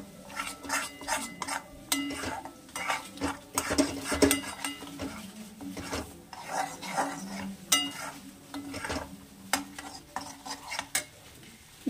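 A spoon stirs chhanar payesh, milk with chhana and a little powdered milk, in a pot on the stove, making repeated scraping, clinking strokes against the metal at a steady, busy rhythm, close and moderately loud with no talk.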